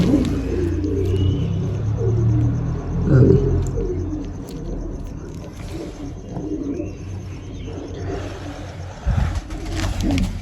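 Pigeons, a white pair with chicks in a village loft, coo in low repeated throaty bursts close by over a steady rumbling background, with faint chirps scattered through.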